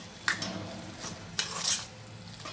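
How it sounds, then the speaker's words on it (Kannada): Mango rice being stirred with roasted peanuts, grated coconut and coriander leaves in a pan, two sharp spoon scrapes and tosses over a soft background hiss, close and moderately loud. "ಕಾಯಿ ತುರಿ ಹಾಗೆ ಕೊತ್ತಂಬರಿ ಸೊಪ್ಪು ಎಲ್ಲ ಮಿಕ್ಸ್ ಮಾಡಿಕೊಂಡು"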